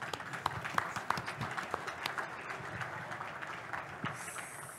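Audience applause at a sports awards ceremony, scattered claps rising and settling into a soft, fairly distant patter of hands, ending in a brief faint high tone.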